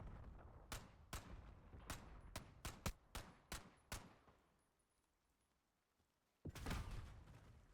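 An LC10 fires in a video game: about ten sharp, loud shots in an uneven rhythm over four seconds, a quiet pause, then a heavier, longer blast.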